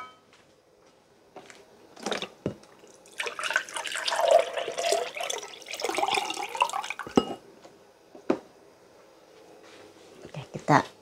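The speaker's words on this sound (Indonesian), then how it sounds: "Setelah ini kita siram pakai santan, dicampur dengan air nanti." Coconut milk and water are poured into a pot of rice seasoned with bay leaves, lime leaves, pandan and lemongrass, a splashing, gurgling pour lasting several seconds between scattered clinks and knocks.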